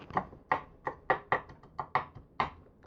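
Sharp, evenly spaced knife chops on a board, about ten strokes in a steady rhythm, close and clear with no talking.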